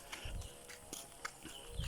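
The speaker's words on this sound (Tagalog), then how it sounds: "Kabayo, yan." A horse walks in a rural barangay of Burdeos, Quezon, its hooves clip-clopping in a steady, moderately close rhythm of soft knocks over faint outdoor background noise.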